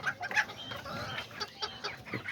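Silkie chickens clucking in a backyard coop, soft, close, repeated clucks with faint chatter among the birds, no talking.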